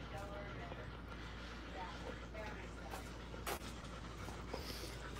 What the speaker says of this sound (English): What are you doing, dog? Quit being so loud.